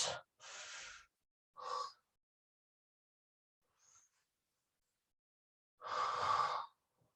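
Two deep breaths taken while holding a yoga bind in a vinyasa flow practice, each a close, audible breathy sigh-like exhale separated by quiet, with smaller breath sounds between.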